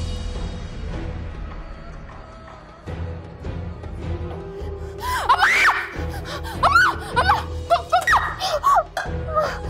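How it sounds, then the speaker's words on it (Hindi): A woman screams in a dramatized scene from a Pakistani TV court show, wavering, rising cries repeating from about halfway through over a low steady background hum. "अचानक मुझे अम्मा के चीखने की आवाज आई।"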